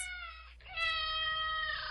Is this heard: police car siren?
no